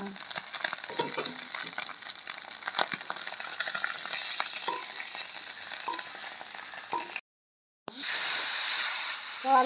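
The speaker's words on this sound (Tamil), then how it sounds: "இப்போ வந்து நல்லா கருவாடு பொறிஞ்சிட்டு இதை எடுப்போம்" Dried fish frying in hot oil for a fish curry crackles and sizzles steadily up close, with light stirring clinks. The sound cuts out briefly, then a louder sizzle returns.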